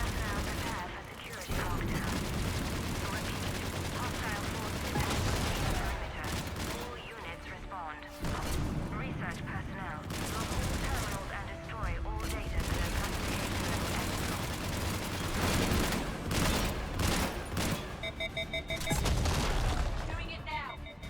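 A heavy gun firing in Mass Effect 3 against an Atlas mech, long loud bursts of rapid shots broken by short pauses, with booming impacts and someone talking intermittently over the fire.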